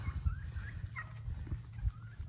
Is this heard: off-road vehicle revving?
no